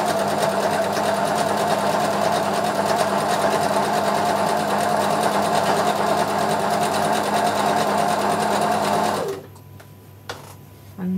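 A sewing machine runs a steady, fast whir as it stitches the initial seam through buckram cloth, then stops abruptly near the end, leaving a few faint clicks.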